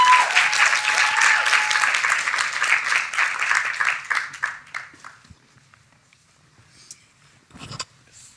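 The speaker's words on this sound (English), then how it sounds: "So a round of applause to our two creators, please." A symposium crowd gives loud, sustained applause for two creators invited onto the stage, with dense clapping that thins out after about four seconds into scattered claps and footsteps, and a few brief sounds near the end.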